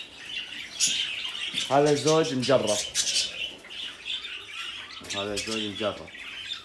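Newly bought pet birds and chicks give sharp squawks and chirps, close and moderately loud, in short bursts while someone talks in between.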